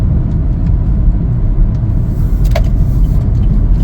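A 2023 Chevrolet Equinox AWD RS cabin on the move, with steady loud low road and engine rumble throughout and a few faint light clicks near the middle.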